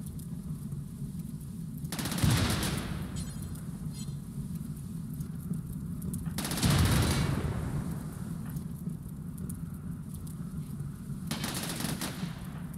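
Turret gunfire in the video game Rimworld, heard as a steady rattling background with three loud bursts of firing standing out at spaced intervals.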